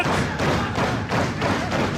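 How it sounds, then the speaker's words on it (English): Swoggle's right-hand chops landing on Tracy Smothers at an independent wrestling show in Cleveland: a run of loud, slapping thuds, about five in two seconds, over steady crowd noise. "Swoggle is firing off the chops in the right hand."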